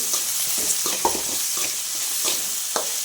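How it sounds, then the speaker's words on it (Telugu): Soft, steady sizzle of ivy gourd and mint frying in a pan over low heat, with faint scraping and stirring knocks scattered through. No one speaks. "నేను సిమ్లోనే పెట్టుకొని వేయించుకుంటున్నాను"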